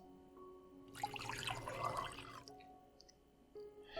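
Water poured into a vessel for a drink in a quiet indoor scene, a close, steady splashing pour lasting about a second and a half, then a few faint drips and small clinks.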